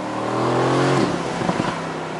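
A 2018 Mercedes-AMG GT C engine accelerating, heard from inside the car: a rising, droning engine note that swells loud, then turns rougher with a few pops and flutters as it eases off.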